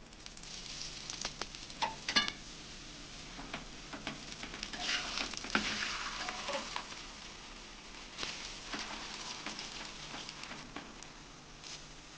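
Onion greens paratha fries in oil on a hot tawa, giving a steady soft sizzle with small ticking pops and a few louder crackles, close and moderate throughout.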